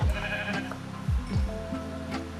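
Minecraft sheep bleat in short, bright, wavering calls, three or four of them spaced apart over a faint steady background.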